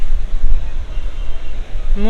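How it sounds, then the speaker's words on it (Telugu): Ocean waves at Bheemili beach in Vizag roll in as a steady, loud surf roar with gusty wind noise on the microphone, and a brief voice rises near the end. "ఇక్కడ మాత్రం వేవ్స్ బాగా వస్తున్నాయి"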